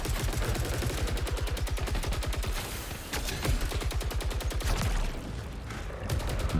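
Rapid automatic weapon fire from the Rising Pitch alternate fire in the sci-fi shooter Saros, a dense stream of sharp, evenly spaced shots with brief pauses, loud and up close, with no talking.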